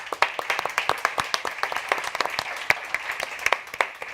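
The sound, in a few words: audience applause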